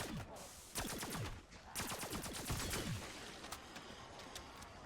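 Rapid bursts of pack-a-punched nail gun fire in a Black Ops video game, sharp repeated shots in several volleys with sustained rattling between them, no talking.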